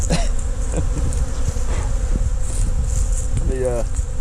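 Honey bees buzz around equipment as they clean up and rob out leftover honey after extraction. The droning is close and continuous, with individual bees passing near, and there is faint background noise.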